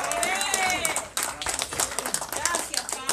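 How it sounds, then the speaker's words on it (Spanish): Church congregation clapping in praise during an evangelistic service, dense rhythmic applause, loud and close, mixed with singing and voices throughout. "Denle un aplauso al Señor."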